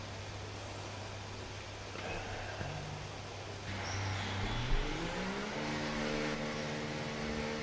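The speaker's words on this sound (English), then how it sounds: "There's a few cars out on track already." Race cars idle and rev in the garage and pit area of the F1 24 video game at the Las Vegas circuit, with a steady engine drone whose pitch climbs as one car accelerates away.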